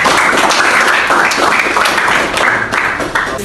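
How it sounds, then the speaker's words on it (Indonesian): Classroom applause for a student group, a short burst of close, loud clapping from many hands with uneven rhythmic pulses. "Beri tepuk tangan untuk kelompok"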